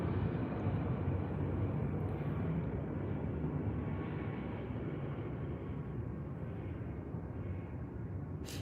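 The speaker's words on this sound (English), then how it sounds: "Oh, another plane." Broad steady rumble of a fixed-wing airplane passing overhead, heard at a constant moderate level for several seconds with no voices over it.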